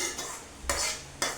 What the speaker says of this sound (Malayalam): എന്നിട്ട് അതിലേക്ക് തന്നെ ഈ തക്കാളി ഉള്ളിൽ ഒന്ന് വഴറ്റിയെടുക്കണം.